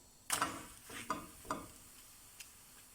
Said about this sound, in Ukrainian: З однієї сторони жаримо приблизно 1 хвилинку, перевертаємо і з іншої сторони жаримо 30 секунд.